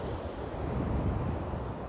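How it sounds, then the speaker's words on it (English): Gentle ocean waves wash onto Manguinhos beach in Buzios, Rio de Janeiro state, early in the morning: a steady, close broadband surf rush with some wind buffeting the microphone, and no talking. "Right now it's a nice, just comfortable waves there."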